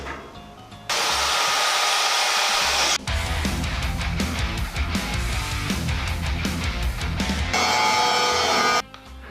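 A grinder that breaks down during use on an off-grid homestead roars with a loud, harsh, hissing whir. It cuts in, shifts to a rougher, choppier tone partway through, surges again, then stops near the end, with no talking.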